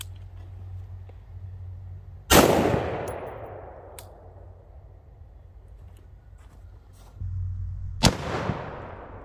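Two sharp, loud rifle shots about six seconds apart, each striking a damaged armor plate with a ringing impact that decays slowly, over a low steady rumble outdoors.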